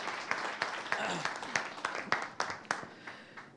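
Audience applause at a Marathi film trailer launch as a performer is called on stage, a lighter scattering of distinct claps from a smallish crowd, with murmuring voices underneath.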